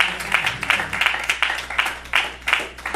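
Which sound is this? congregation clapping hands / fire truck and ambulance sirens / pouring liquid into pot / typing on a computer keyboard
congregation clapping hands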